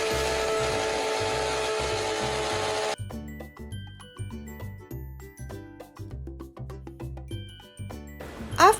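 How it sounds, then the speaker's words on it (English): A kitchen mixer grinder pulverising a handful of chia seeds runs loud and steady for about three seconds, then continues in short rhythmic bursts as the jar is pulsed and shaken, ending with a brief whirr. "take a handful of chia seed, then you have to grind it in your mixer"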